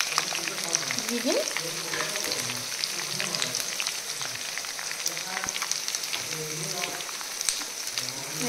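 Chopped onions sizzle in rendered pork fat in a hot pan, a steady crackling fry with stirring, close up and continuous beneath a speaking voice.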